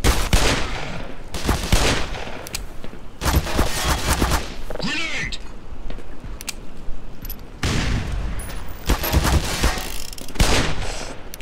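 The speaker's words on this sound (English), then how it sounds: "a lot of shooting at me" Heavy gunfire rages in the game Black Mesa, with repeated loud bursts and sharp shots broken by short gaps, close and intense throughout.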